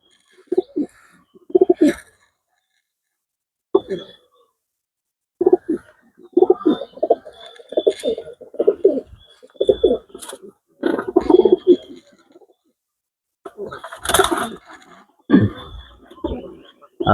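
Pigeons on a farm coo in repeated short bursts, some softer and some louder, with brief pauses between the calls and a few sharper chirps mixed in, all close by.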